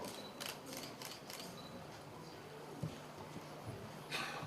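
Faint, quick bursts of camera shutter clicks at high shutter speed during a live cooking demonstration, a rapid run near the start and another toward the end, over a quiet room hum.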